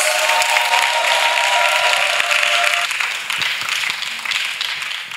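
Dense applause from a church congregation acclaiming Jesus Christ fills the space steadily, then thins and fades slightly toward the end.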